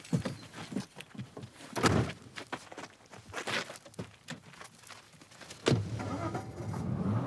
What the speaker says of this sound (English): The car drove off at speed.